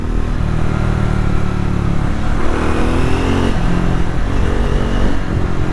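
A Triumph Scrambler 400 motorcycle engine revs and pulls under acceleration while riding, a loud, continuous mid-pitched roar with rising pitch sweeps and wind rush close to the rider.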